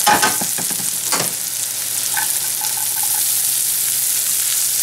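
Tomato sauce hits a pan of fried oysters, starting with a few clatters and splashes and then settling into a steady, loud sizzle that carries on unbroken.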